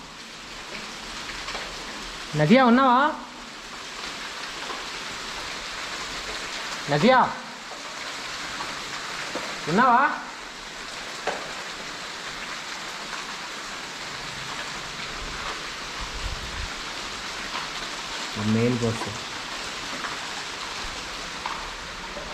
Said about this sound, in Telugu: ಫುಲ್ ಮಳೆ ಬೀಳ್ತಿದೆ